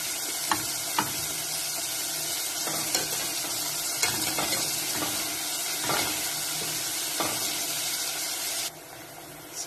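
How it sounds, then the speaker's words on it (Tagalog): Pork pieces deep fry in hot oil for sweet and sour pork, a steady, bright, hissing sizzle with occasional soft clinks and stirring knocks, fairly close and continuous, with no talking. "Kailangan natin deep fried."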